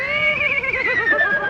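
A man vocally imitates a horse whinnying on a comedy TV talent show: a single quavering, descending neigh lasting over a second, loud and close, with a warbling tremolo toward the end.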